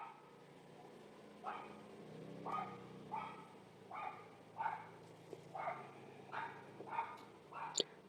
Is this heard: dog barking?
yes